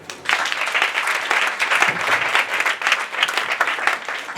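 A church congregation bursts into sustained applause acclaiming the Lord, dense crowd clapping that holds steady at full strength throughout, close and loud, with no voices on top.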